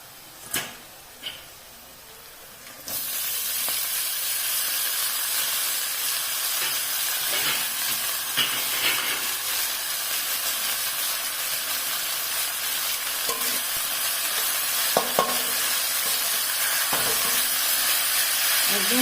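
Onions frying in a pan, a few sharp taps, then a sudden loud, steady hissing sizzle that carries on evenly with occasional pops and knocks, close and without speech.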